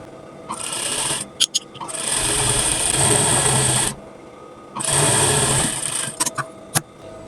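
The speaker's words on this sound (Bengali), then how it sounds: "পাইপিনের কাপড়টা এভাবে ডাবল করে নিয়ে মুখে মুখে একটা সেলাই দিয়ে নেবেন" A sewing machine stitches along the edge of doubled fabric piping for a garment neckline, running in two sustained bursts with brief clicks and pauses between them.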